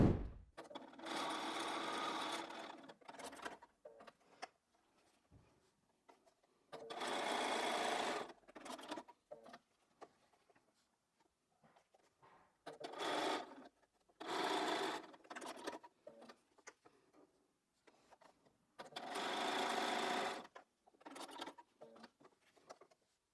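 Sewing machine joining quilt charm square pieces end to end, running in several separate bursts of steady whirring stitching with quiet pauses between, close and clear.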